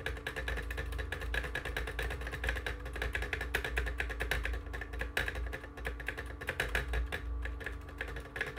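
A computer keyboard spacebar is clicked over and over in quick, steady succession, close and crisp. The sharp, dense taps continue throughout with a faint background hum.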